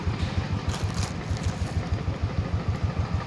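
A motorcycle engine idles close by with a steady, rapid low thumping rhythm and faint mechanical rattle, no voices.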